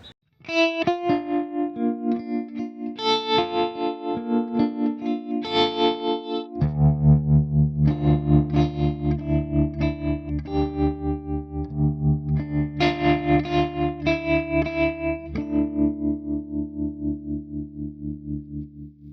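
A synth tone pulses with a steady wavering tremolo from a TC Electronic 2290 delay unit, the volume throbbing rhythmically as the sustained notes change, with a distorted, processed edge.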